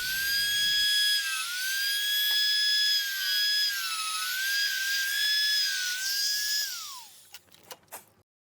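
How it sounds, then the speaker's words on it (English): A high-pitched rotary grinder shaves the excess length off drone arm screws during a GEPRC DX-4 build, whining loudly and steadily with slight pitch dips, then spinning down and ending in a few small clicks. "I'm going to fix this by grinding off the excess length of the screws."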